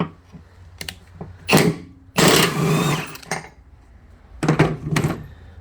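An impact wrench hammers at a seized lawn tractor mower deck spindle pulley in short loud bursts, one long rattling run in the middle and several brief buzzing hits before and after, separated by quieter gaps.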